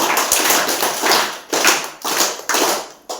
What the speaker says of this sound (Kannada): ನಿಮ್ಗೋಸ್ಕರ ಜೋರಾಗಿ ಚಪ್ಪಾಳೆ.